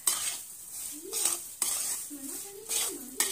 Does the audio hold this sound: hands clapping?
no